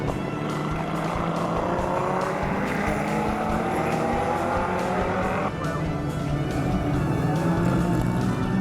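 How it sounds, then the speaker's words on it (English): Powerful V8 race car engines roar continuously nearby at a motorsport festival race, a deep throbbing rumble with rising pitch as cars accelerate past, and occasional tire noise. "from Turbo 6s through to the classic rumble of the V8s"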